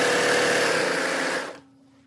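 A sewing machine stitches the side seam of a pair of pants with cuffs, a loud, fast, continuous whirring run close by that stops abruptly near the end and leaves a faint hum.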